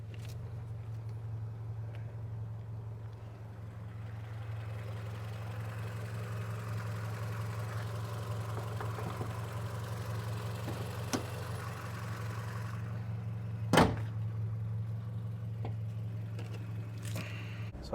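A 2022 Subaru BRZ fitted with a K&N air filter runs at a steady idle, a low, even engine hum held throughout with a brief sharp knock partway through, quiet and without talk.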